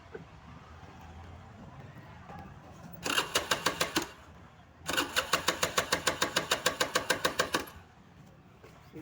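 A motorcycle's starter cranks in two rapid, rhythmic bursts, a short one and then a longer run, without the engine catching, heard close against quiet background.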